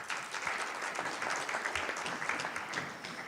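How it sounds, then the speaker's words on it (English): Applause for the ambassador at a Joint Bureau meeting, a modest roomful of hands clapping steadily and fairly quietly for a few seconds, with no voices over it. "Give him an applause."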